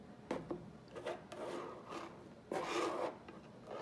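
An old credit card spreads gesso across a canvas in short scraping strokes, producing soft rubbing rasps in uneven bursts, with a longer, louder pass near the end, quiet and close.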